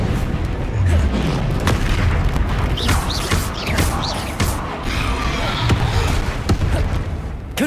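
Confringo blasting spells explode repeatedly in a Harry Potter video game, heavy booming blasts and crashes with rumbling thuds throughout the fight, loud and close, with game voices speaking amid the chaos.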